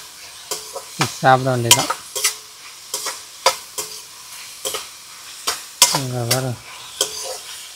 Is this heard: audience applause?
no